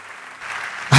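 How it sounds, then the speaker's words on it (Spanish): A church congregation claps in a brief burst of applause: a steady wash that swells and grows louder toward the end. "Dale un aplauso a Dios."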